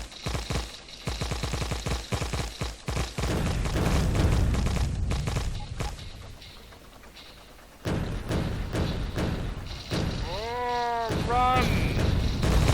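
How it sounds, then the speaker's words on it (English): Explosive tank shells fire and burst in Factorio, a thick, continuous run of booming blasts and rumbling impacts, loud and close throughout, with a brief quieter stretch partway through. "Do not fire explosive shells upon your own tank."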